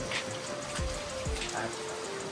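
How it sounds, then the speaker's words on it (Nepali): Rain falls outside in South Korea as a steady, soft patter and hiss throughout, faint and even, with a couple of low thuds and no voices. "यस्तो बाहिर यस्तो पानी परिरहेको छ"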